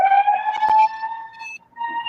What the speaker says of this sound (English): That siren is loud.